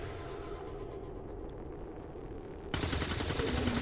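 Gunfire in the video game XCOM 2 comes as a steady rattling burst under a low rumble, then jumps to a louder, harsher roar of shots near the end.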